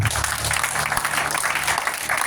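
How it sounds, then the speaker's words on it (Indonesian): Congregation clapping for God at an Indonesian youth revival service, a broad steady wash of hand claps throughout with a low hum beneath and faint voices mixed in. "Tepuk tangan buat Tuhan."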